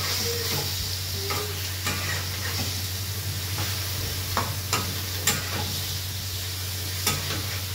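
Boiled fish roe from stinging catfish, cooked with turmeric and salt, fries in masala with a constant sizzle under repeated sharp spatula scrapes and taps against the pan.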